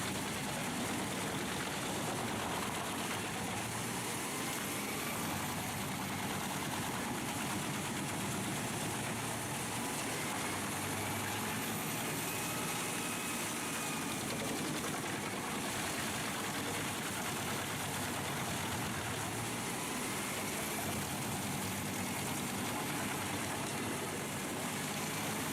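A drum chipper's 550 horsepower Scania engine idles with a steady, loud, dense roar that runs unbroken throughout, with no talk over it.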